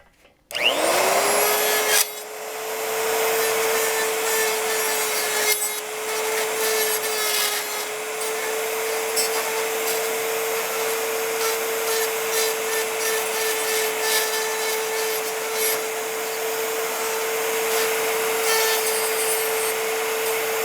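A power tool trims the plastic trim on a Jeep TJ swing-out tire carrier, a steady high-pitched motor whine running continuously for about twenty seconds, with gritty cutting and rubbing noise over it.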